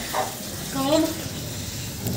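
Water splashed and sprinkled across the ground outside a shop during morning cleaning, a soft, steady wet spatter running under a nearby voice.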